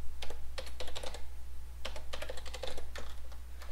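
Clicky keystrokes come in quick irregular clusters as HTML code is typed on a nearby computer keyboard, with a steady low hum underneath.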